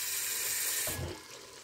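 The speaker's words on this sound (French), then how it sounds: "j'ai rajouté de l'eau" Water pours into a cooking pot for a stew of greens, chicken and goat in tomato sauce, with a loud steady hissing splash that cuts off partway, then a softer trickle, close and alone.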